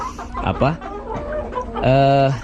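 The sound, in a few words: chickens clucking in a crowded coop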